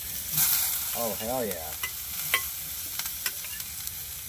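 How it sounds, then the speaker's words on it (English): Meat sizzles softly on a grill with scattered light crackles and pops. Someone speaks briefly near the start. "You hear that sizzle?"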